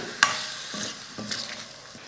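Chicken sautés in oil with chili powder while being stirred in a pan for a chicken gravy, giving a soft continuous sizzle with a sharp clack near the start and a few scraping stirs.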